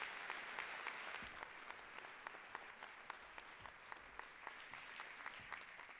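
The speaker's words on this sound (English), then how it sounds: "Give her an applause." Audience applause at a landscape architecture plenary session, a steady field of many hands clapping evenly for about six seconds, moderately distant in a large hall.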